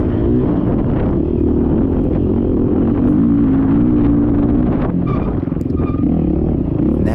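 Four-stroke and two-stroke dirt bikes race on a grand-prix cross-country track at Wicomico Park, with a steady, close engine drone and some rumble and clatter, and no talking.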